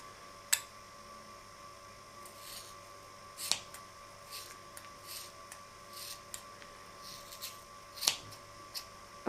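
Scissors trim the yarn of a handmade pompom, giving a few crisp, close snips at irregular intervals with softer clicks between them, over a faint steady electrical hum and no talking.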